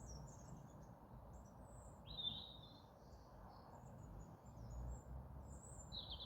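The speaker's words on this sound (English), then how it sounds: "I can't tell what type of bird it is because it's in silhouette, but it's very small." A very small bird chirps in short, high, scattered calls over a faint steady outdoor hiss, some notes slightly nearer and louder than others, with no talking.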